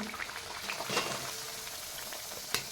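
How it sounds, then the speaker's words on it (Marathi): Wheat flour poori dropped into very hot oil, a soft, continuous bubbling sizzle with a few brief clinks, fairly quiet. "पुऱ्या तळून घेण्यासाठी तेल छान कडकडीत गरम करून घ्यायचे आहे आणि ज्या दिशेने आपण पुरी लाटली होती त्या दिशेने हे पुरी तेलात सोडायचे आहे"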